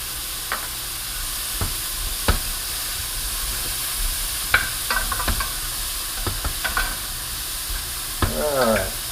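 Jambalaya sizzling and frying in a pan, a steady close hiss broken by occasional stirring clinks and scrapes of a utensil against the pan.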